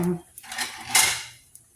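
Metal clatter of a pan being flipped and covered while cooking a twisted egg, with a few sharp clanks and scrapes of cookware and utensils close by over about two seconds.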